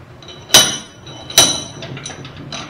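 A retaining clip pops out of a bench vise while bushings are pressed during a 1962 Corvair front-end restoration, giving two sharp metallic snaps close by, about a second apart, over faint background noise.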